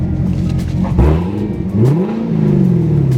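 A 2017 Corvette Grand Sport 3LT revs loud and close, its engine note climbing in pitch and then falling back, with a second rising rev after a short pause.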